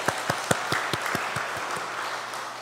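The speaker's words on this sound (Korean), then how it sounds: "우리 격려의 박수 한번 드리겠습니다." A church congregation at an early-morning special prayer service applauds a choir, a short scattering of distinct hand claps in a fairly sparse, uneven rhythm that fades out after a couple of seconds.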